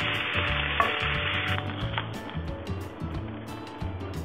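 Onions sizzle steadily in a skillet while cooking for japchae, a loud, close crackling hiss that holds throughout with soft stirring scrapes and a faint low hum underneath.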